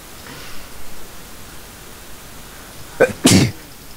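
A single close, sharp sneeze bursts out near the end, preceded by a faint breathy intake, against a quiet background during a League of Legends gaming session.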